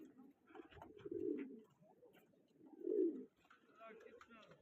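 Low, throaty pigeon coos come in two or three rolling bursts close by, separated by short quiet gaps.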